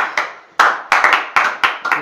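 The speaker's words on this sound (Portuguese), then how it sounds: "Vamos lá, aplausos pra nega, vamos lá!" A small live crowd claps in short bursts of sharp applause, about six distinct rounds of hand claps spread over two seconds at a rap battle event, fairly close and loud with no talk over them.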